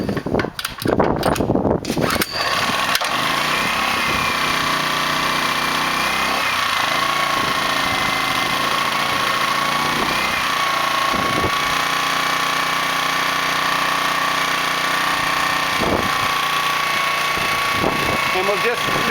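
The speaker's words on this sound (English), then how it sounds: "I'll turn the generator on." Portable generator pull-started with the choke on: a brief burst of starter pulls and sputtering, then the engine settles into a steady, loud, continuous running drone for the rest of the clip.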